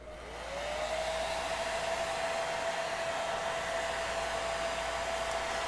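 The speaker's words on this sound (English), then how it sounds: "I get impatient, so I like to use the hair dryer." A hair dryer whirs up to speed and runs in a steady, loud, close hiss with a constant high whine and no voices.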